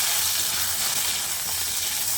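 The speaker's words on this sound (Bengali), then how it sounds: "কচুগুলোকে দিয়েও আলুর সঙ্গে আরও একবার ভেজে নিচ্ছি।" Boiled gathi kochu (taro) and potatoes frying together in oil on a high gas flame, a loud, steady hiss and sizzle with no talk.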